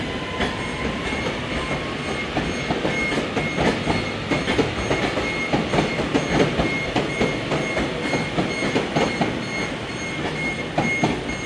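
A Northern train rolls slowly out of Manchester Piccadilly, with a steady loud rail rumble, rapid clickety-clack wheel beats and a thin sustained squeal running through, close and without talk.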